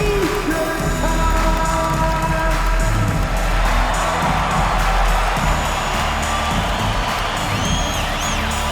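Arena crowd cheering and yelling during T-shirt time at a Dallas Mavericks home game against the Miami Heat in NBA 2K25, a dense, steady roar of fans filling the whole stretch.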